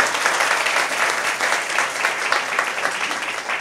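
A packed audience claps loudly and steadily at a collective Kshamavani gathering in the Shri Vardhaman Digambar Jain temple, Shakarpur, Delhi, a dense, sustained roar of hands with no voices on top.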